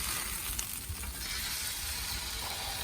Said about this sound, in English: So let's turn this steak now